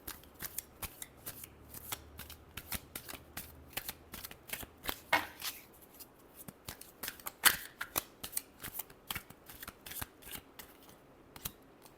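Tarot cards shuffled by hand make a close, quiet series of rapid riffling snaps and flicks in an uneven rhythm that carries on throughout, with no talking.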